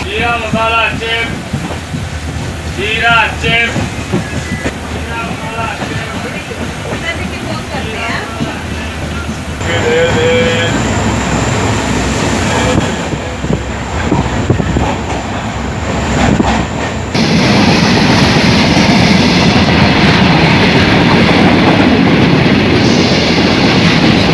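A train runs on the Konkan railway route, its wheels clattering rhythmically and loudly close by while people talk over the noise, growing louder toward the end.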